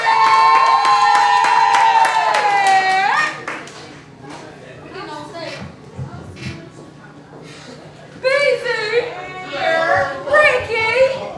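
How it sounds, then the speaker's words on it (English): Crowd clapping and whooping at a live music show, with cheers and claps rising and falling amid loud shouting voices and talk. "give it a big round of applause"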